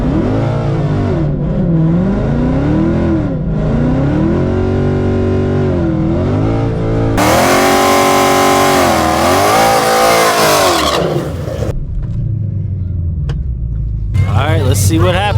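A Whipple-supercharged 2024 Ford Mustang GT making about 750 wheel horsepower roars down a drag strip, its loud engine climbing and dropping through repeated gear changes, then cutting off abruptly, with a voice speaking over it.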